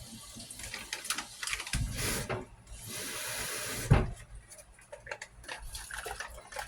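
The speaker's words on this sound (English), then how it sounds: "I just fill it up with water and I just pour it in the bowl." Water poured from a container into a bowl while making oatmeal in a home kitchen, a steady splashing pour lasting a couple of seconds amid soft handling clatter, close and moderately loud.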